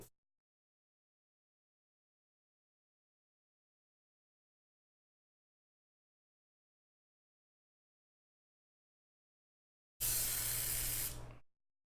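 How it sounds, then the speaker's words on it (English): An airbrush fires one short, loud burst of hissing spray, about a second and a half long, after a long silence. "Let me clear this airbrush."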